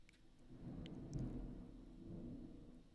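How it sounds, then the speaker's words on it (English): Low, distant thunder rumbles steadily with faint patter of rain over it, fairly quiet and with no talk. "But can you guys hear the thunder?"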